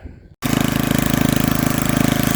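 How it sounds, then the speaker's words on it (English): A garden tiller engine runs loud and close while tilling soil, its steady chugging pulse continuing after a short quiet start. "The old tiller there, she'll pretty near go by herself."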